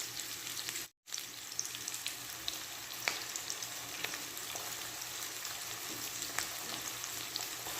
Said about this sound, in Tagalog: Igisa natin yung tomato paste para maluto.